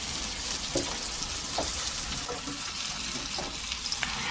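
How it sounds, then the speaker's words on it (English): Mushrooms frying in a pan, a continuous close sizzle with a few light stirring clicks scattered through it and no talking. "Now I'm going to cook some mushroom. Fry it."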